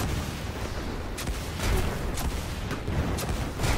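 A giant gun firing in Destiny 2: a rapid series of heavy, booming shots over dense roaring battle noise, loud and continuous with distinct thumping reports every fraction of a second.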